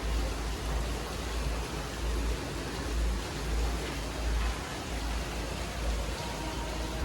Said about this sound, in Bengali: সো গাইস, দেখতে পাচ্ছেন অনেক জোরে বৃষ্টি হচ্ছে